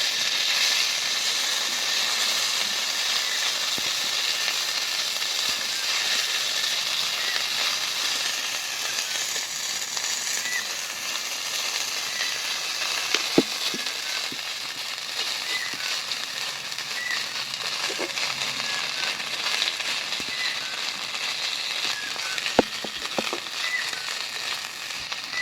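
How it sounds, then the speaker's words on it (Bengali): Cumin paste frying in hot oil for a pumpkin and Malabar spinach ghonto with prawns, giving a steady, close sizzling hiss with scattered small crackles and pops throughout, no voices. "জিরে বাটা ভালো করে তেলের মধ্যে ভেজে নেব।"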